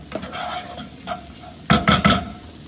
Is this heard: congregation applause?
no